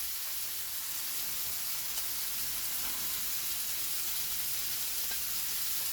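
Chicken, carrot and garlic fry in a pan over a medium flame, giving a soft, steady sizzle and hiss without pause, faint and even throughout.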